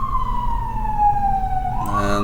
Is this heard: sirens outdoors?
yes